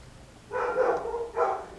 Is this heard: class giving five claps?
no